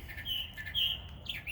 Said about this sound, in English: This morning I'm bringing you all my bird singing in the tree every morning.